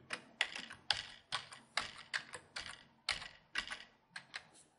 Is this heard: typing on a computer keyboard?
yes